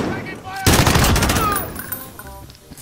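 Heavy automatic gunfire in the Call of Duty Modern Warfare video game erupts suddenly and loudly after a quiet start, a dense rapid burst of shots with faint voices talking beneath.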